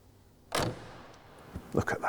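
The rear door of a 1958 Bentley S1 Standard Steel Saloon shuts with a single solid thud, followed by a few softer clicks and knocks from the latch and handle.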